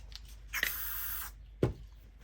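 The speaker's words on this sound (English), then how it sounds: "So I just spray my cap cleaner on some paper towels" Cap cleaner sprayed onto paper towels in one sustained hiss lasting under a second, close and quiet, followed by a soft dull thud.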